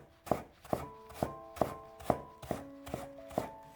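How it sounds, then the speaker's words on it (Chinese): A kitchen knife shreds sliced potato into thin strips on a cutting board, giving eight or so evenly spaced, close, solid chops with faint ringing after each stroke. "再改刀切成细丝"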